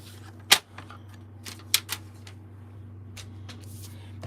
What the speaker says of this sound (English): So we're just going to trim a little bit off the bottom.